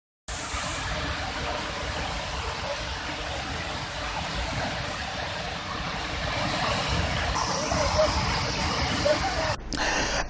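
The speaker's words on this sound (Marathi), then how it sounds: "येथील हा धबधबा आता ओव्हरफुल भरून खाली पडताना दिसतोय" Broad, steady roar of the overflowing Kapildhar waterfall in Beed, a dense wash of falling water that continues unbroken for about ten seconds, close and loud, with a brief shift in texture near the end.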